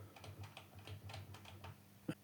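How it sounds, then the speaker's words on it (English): Cursor keys on an Akai MPC2000XL sampler are pressed repeatedly, a quiet series of soft plastic button clicks at an uneven pace with a slightly firmer final press. "you could also cursor up and down using the cursor keys"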